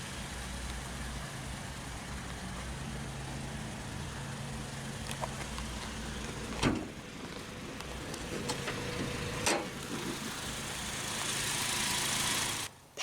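A 2019 Toyota Tacoma SR Access Cab with a 2.7-liter naturally aspirated inline-4 idles with a fairly quiet, steady low hum, broken by a couple of brief knocks partway through.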